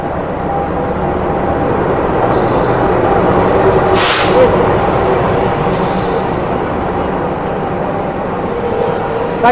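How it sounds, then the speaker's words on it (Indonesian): A diesel shunting locomotive on B40 biodiesel test fuel gives a loud, steady engine rumble with a continuous broadband roar and a brief hiss midway, heard close by. "Dan ini ada lokomotif langsir teman-teman. Oh, ini lokomotif spesial ini, uji coba bahan bakar B40 teman-teman."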